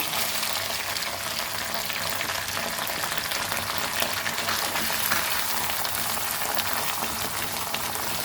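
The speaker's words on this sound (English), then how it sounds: "Let's fry this nicely." Onion and ginger garlic paste fry in a pan for a chana masala, giving a steady, close sizzle with fine crackling that holds even throughout and has no talk over it.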